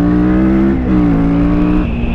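Kawasaki Vulcan S motorcycle engine accelerating on a road in Corsica, a loud, close, steady engine drone with rising pitch sweeps as it revs through gears, continuous for about two seconds with no talking.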